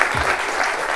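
A short burst of applause from a crowd at a township board of supervisors meeting, steady clapping filling the room for about a second.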